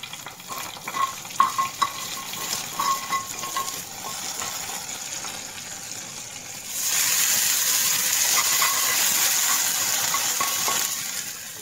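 Soft clinks and stirring at first, then a sudden steady sizzle of mustard seeds, ginger and curry leaves hitting hot oil that continues to the end.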